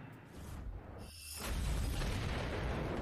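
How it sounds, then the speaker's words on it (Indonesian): A deep explosion in an action film booms suddenly after a brief whoosh, leaving a loud, rumbling roar that sustains to the end. "Dan El Diablo langsung meledakkannya."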